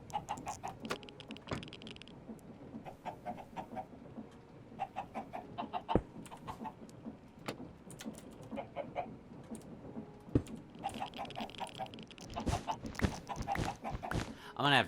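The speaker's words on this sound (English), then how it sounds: "I'm gonna have to turn the chickens off." Chickens cluck repeatedly in Minecraft, a modded automation world, with quick bursts of clucking and pecking clicks that come and go in clusters over a quiet background.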